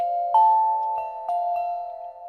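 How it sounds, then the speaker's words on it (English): A sustained bell-like Omnisphere Keyscape "Floating Celeste" synth tone with reverb turned down rings steadily, with a few soft chiming notes struck over it and a long, gently fading tail. "I pulled up this patch from the Omnisphere Keyscape Creative Library called Floating Celeste"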